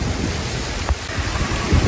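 Steady rain falling in a village, a dense broadband hiss with low rumbling wind or distant thunder underneath, continuous throughout.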